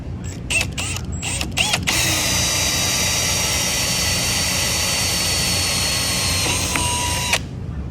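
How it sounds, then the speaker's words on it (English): A power drill boring holes for a custom intake on a Honda S2000, a few short bursts and then a long, steady, high-pitched whine that runs for several seconds before stopping, close and loud in a garage. "Yeah, one more drilling."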